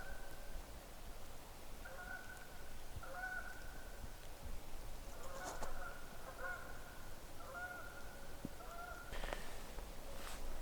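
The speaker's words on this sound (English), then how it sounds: "a flock of geese just flew by in the background" Repeated honking calls from a flock of geese pass overhead at a distance, coming in scattered bursts over steady background noise.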